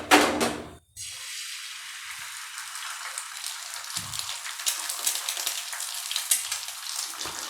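An egg roll with paratha goes into hot oil in a non-stick pan, a loud hiss at first that settles into a steady, close sizzle and crackle.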